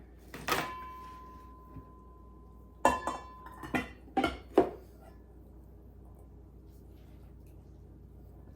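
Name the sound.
corn salad being put into an enamel bowl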